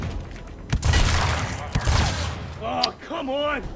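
Gunfire in the tactical video game Gears Tactics cracks out in two loud rattling bursts, then a character's voice speaks over the fading noise.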